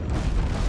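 Heavy ship cannon fire in the pirate naval combat game Abandon Ship, a dense continuous low rumble of booms and blasts rolling together at steady loudness, with no speech.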